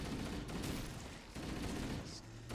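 Assault rifle fire crackles in Halo: CE Anniversary inside the Library corridors, several dense bursts of shots, moderately faint and back to back with no talking.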